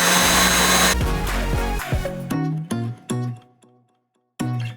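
An electric mixer whips thick buttercream frosting in a bowl, roaring loudly at first, then running in short stuttering bursts that cut out and restart as the stiff frosting clings to the whisk.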